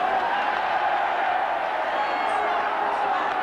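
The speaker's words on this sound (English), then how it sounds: "The crowd are going bananas." A rugby league stadium crowd at a Warrington versus St Helens match roars in a continuous, dense wash of cheering and noise, loud and unbroken throughout.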